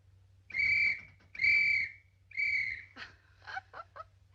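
A parrot imitating a police whistle gives three shrill, whistle-like blasts in a row, followed by a few quick squawky chirps.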